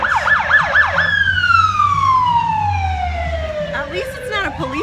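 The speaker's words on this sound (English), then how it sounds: "sorry about the ambulance" An ambulance siren passes outside, first a fast warbling wail, then a long descending tone as it moves away, fairly loud over low traffic rumble with a voice faintly underneath.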